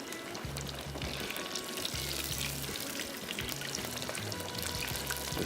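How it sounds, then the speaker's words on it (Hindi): Coated chicken fries in a pan, producing a soft, continuous crackling sizzle with a low, faint hum underneath and no voices. "पहले चिकन की इसकी फ्राइंग करेंगे"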